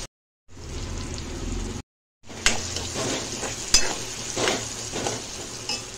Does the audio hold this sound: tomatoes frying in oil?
yes